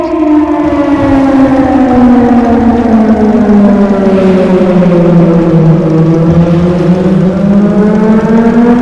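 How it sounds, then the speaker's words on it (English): A civil defense siren wails in the Titan Chaser video game, loud and close, its tone sliding slowly down and then back up across a long sustained sweep with no voices. "I heard this siren from my apartment in Bright City every once in a while"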